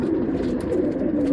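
Pigeons in a Bangalore loft coo steadily, low rolling calls running continuously and fairly loud, close by, with no talk.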